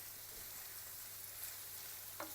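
Borscht sizzles steadily in a frying pan as it is stirred, a continuous close frying hiss with a faint low hum beneath and a brief scrape of the spoon near the end.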